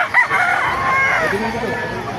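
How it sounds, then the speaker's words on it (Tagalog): A rooster crows nearby at a market in Bocaue, a drawn-out call over faint background noise and distant clucking. "Papakita ko sa inyo mga magandang manok dito sa Bukawi."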